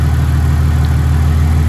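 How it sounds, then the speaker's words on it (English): A Ford AU Falcon engine, just started for the first time in years, idles on its own with a steady low, even rumble and a regular pulsing beat, close and loud, with no talking. "It's idling on its own. Doesn't sound bad at all."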